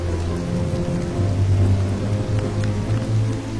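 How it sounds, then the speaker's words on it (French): Steady rain in a cartoon, a dense, even patter close by with a low rumbling hum underneath, continuous and fairly loud throughout. "ce n'est pas une petite pluie qui va gâcher cette belle journée"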